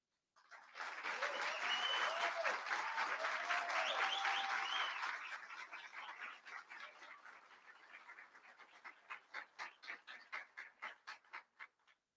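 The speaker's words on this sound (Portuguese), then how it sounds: "a fim de receber o reconhecimento da plateia com uma salva de palmas pelo excelente trabalho realizado" An audience at an awards ceremony applauds the judging committee, with voices calling over the clapping at first, then the applause thins into a slower, more distinct run of claps.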